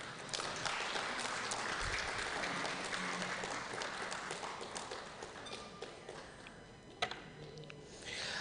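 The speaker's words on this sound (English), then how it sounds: "Please clap for Diana Chengo" An audience at the Africa People's Commission of Inquiry claps steadily in a dense, sustained round of applause for Diana Chengo, with a few sharper individual claps standing out near the end.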